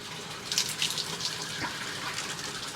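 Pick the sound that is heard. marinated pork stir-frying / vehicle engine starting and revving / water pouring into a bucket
water pouring into a bucket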